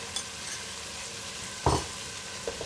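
Chopped onion, garlic and fresh chili frying in oil in a pot, a steady close sizzle with a brief louder clatter of stirring partway through.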